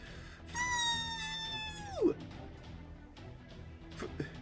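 A cat meows in the Fate/Grand Order Halloween event, one long, loud yowl that slides downward and then breaks off. Background game sound sits underneath, and brief noises follow.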